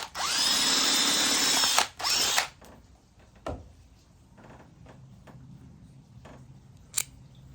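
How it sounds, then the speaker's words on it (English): A power drill with a 1/4 inch bit whines loudly for about two seconds with a brief pause, then stops, followed by scattered clicks and light handling noises. "you're gonna need to drill this out a little bit"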